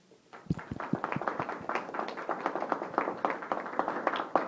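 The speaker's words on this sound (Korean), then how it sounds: "한 분 한 분 소개해드릴 때 박수로 환영해 주시면 감사하겠습니다" An audience at a Korean open-government philanthropy conference applauds to welcome a panelist, a steady burst of many hands clapping that builds and keeps going throughout, with no talk over it.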